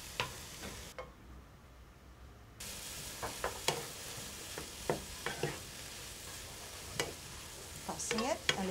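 Eggplant, tofu and tomato sauce cooking together in a pan, a quiet sizzle under a string of sharp spatula clicks and scrapes as the mix is tossed, the clatter getting busier toward the end.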